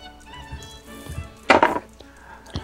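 A heavy 2.5-pound gold die tumbles and thuds on a hard surface, a loud clattering burst of impacts in the middle, with a few softer knocks before and after.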